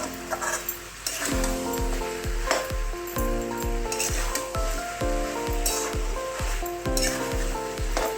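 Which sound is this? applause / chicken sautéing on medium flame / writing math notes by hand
chicken sautéing on medium flame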